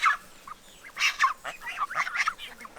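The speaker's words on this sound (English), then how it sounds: "she was able to let the chickens out and geese so they can come out here and start foraging on the greens" Chickens and geese let out into a wet, muddy run to forage on greens. They give a string of short honks and squawks, with the loudest near the start and in the middle.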